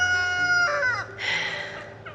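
Backyard hens squabbling as one picks on another, giving a drawn-out crowing call followed by a rougher squawk, close and fairly loud with no talking.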